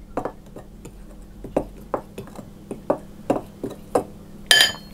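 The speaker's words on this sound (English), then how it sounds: "put my salt and my baking powder into the flour, and I'm going to give that a stir around just to mix it up" Dry flour with salt and baking powder stirred in a bowl for biscuit dough, a utensil clinking and scraping against the bowl in a steady series of close taps, with a brighter clink near the end.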